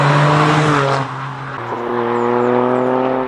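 A three-cylinder turbocharged car with a particulate filter, sold as a budget mini GT3-style build, rumbles loudly and close with a strong harmonic exhaust drone that dips briefly, then rises again as the revs climb.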